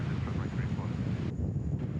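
A Qantas Freight aircraft with no winglets passes at Sydney Airport, a dull engine rumble mixed with wind buffeting on the microphone, steady and moderately loud, with faint talk underneath.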